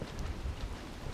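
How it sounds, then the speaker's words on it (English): Fine rain falls outdoors on a London street, a soft, steady wash of drizzle that stays low and even throughout, with no voices. "the fine rain"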